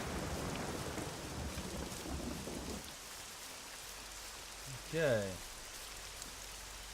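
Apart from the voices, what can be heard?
rain effects in the video game SCUM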